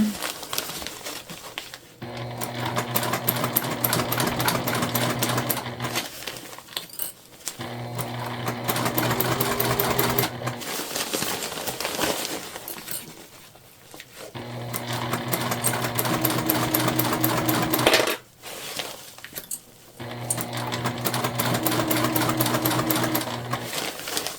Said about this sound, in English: And we're sewing from the interior of our bag.